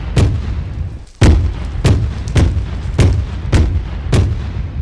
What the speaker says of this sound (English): So behold, an AA gun, in case you have aircraft.